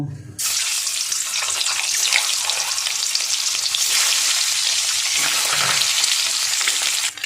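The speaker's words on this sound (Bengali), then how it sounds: "এবার আমি ডিমটা ভেজে নেব।" An egg fries on high flame in hot oil with a small spoonful of ghee, a loud, steady broadband sizzle that starts abruptly and holds for about seven seconds with faint scraping, no voices.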